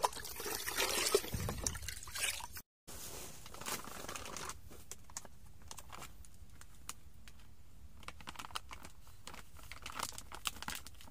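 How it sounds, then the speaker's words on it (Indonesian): Chili fertilizer is stirred into water, with a loud splashing slosh at first and then a quieter trickling and clinking that continues steadily, with a brief dropout early on. "Ini aku mau aduk dulu ya."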